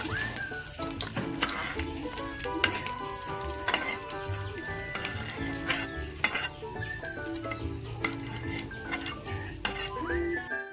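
Green chillies fry in a pan for a coconut chutney, crackling and sizzling with sharp popping spits and clinks of a utensil against the pan, close and steady, with no talk.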